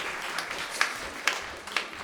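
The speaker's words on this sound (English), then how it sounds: "So a huge round of applause." Audience applause at a festival concert, a soft, distant wash of clapping with a few sharper individual claps standing out, fairly faint throughout.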